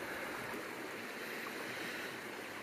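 High spring river water rushes steadily below a log crossing in the Australian Alps, a constant broadband hiss heard close without voices.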